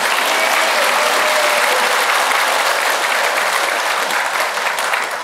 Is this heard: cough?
no